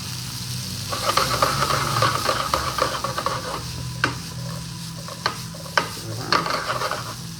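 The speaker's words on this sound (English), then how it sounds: "Hear that sizzle?" Garlic, onions and celery sizzle steadily in a pan for caponata, a close, continuous frying hiss broken by a few sharp clinks and scrapes of stirring.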